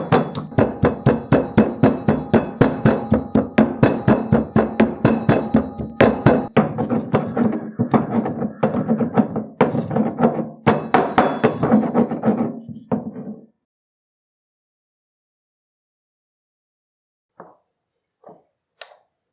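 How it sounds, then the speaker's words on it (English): Sun-dried almonds and walnuts being ground by hand: a fast run of rhythmic, close, hard pounding knocks that go on for about thirteen seconds, stop suddenly, then a few faint isolated taps. "grind 6 almonds and 3 walnuts after sun drying"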